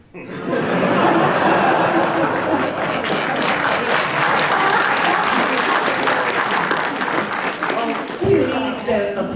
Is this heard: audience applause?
yes